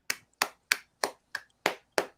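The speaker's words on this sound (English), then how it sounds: "Let's give him a round of applause, boys." A few people in a small podcast studio clap in a sparse, slow round: seven separate sharp, dry claps, evenly spaced and close, with silence between them.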